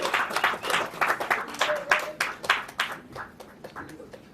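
Applause from an audience greeting a beloved film actor on stage at a victory celebration, clapping bursts rising and falling unevenly before thinning out toward the end.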